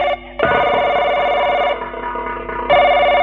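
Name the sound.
telephone ringing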